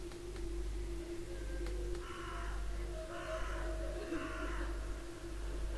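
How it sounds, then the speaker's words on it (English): A few crows caw at a distance over a low, steady droning ambience with a dark, eerie atmosphere. "Eerie crows."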